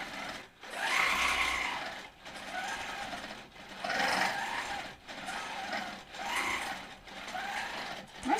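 A longarm quilting machine stitches across a quilt border, its rapid mechanical whir coming in bursts about a second long, separated by short pauses, close and moderately loud.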